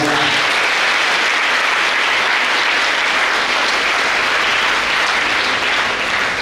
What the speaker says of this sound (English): And once again, give applause.